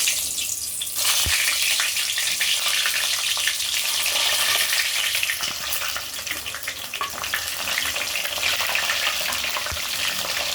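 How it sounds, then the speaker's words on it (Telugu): Brinjals fry in hot oil, a loud, dense, continuous sizzle that starts abruptly after a quieter first second and carries on steadily up close, with occasional faint knocks. "ఆయిల్లో వేయించి పక్కన తీసి పెట్టుకోవాలి."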